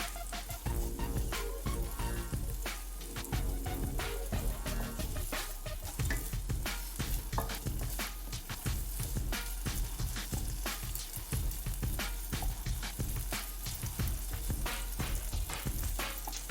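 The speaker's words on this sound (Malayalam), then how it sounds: "ഇനി നമുക്ക് കുറച്ചുകൂടെ ഒന്ന് ഫ്രൈ ചെയ്ത് എടുക്കണം." Okra sizzling and frying steadily in hot oil in a pan for a Kerala kichadi, a dense continuous crackle with scattered sharp pops and occasional stirring, close and fairly loud with no voices.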